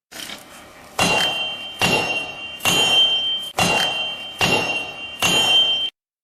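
Six evenly spaced metallic clangs, each ringing with a sustained high tone, as a hammer strikes a sword on an anvil at a forge.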